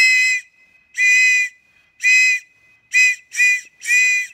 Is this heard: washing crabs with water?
no